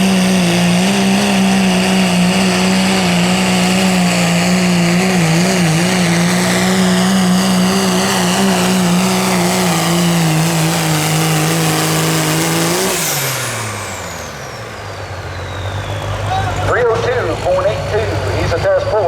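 A Dodge diesel pulling truck in the 2.6 diesel 4WD class at a county fair truck pull roars at a loud, steady high rev, then cuts out abruptly, leaving lower rumbling and crowd noise; an announcer talks over it.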